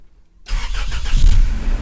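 A 1994–1998 Toyota T100 with the 2.7L engine cranks and fires after a brief silence, then settles into a loud, rumbling idle heard up close for the remaining second or so.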